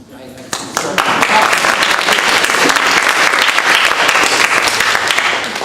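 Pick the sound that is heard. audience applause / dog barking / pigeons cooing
audience applause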